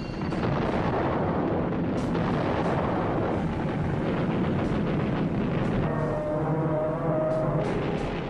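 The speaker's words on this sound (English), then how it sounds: "she took a bomb which penetrated 4 decks before exploding" Bomb explosion aboard the aircraft carrier Yorktown in wartime archive footage, a continuous loud, dense rumbling roar with scattered sharp cracks and blasts, heavy and close throughout.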